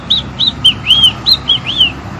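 Parrot imitating the call of the great kiskadee: a rapid series of seven short, bright whistled chirps, near and fairly loud, with no speech over them.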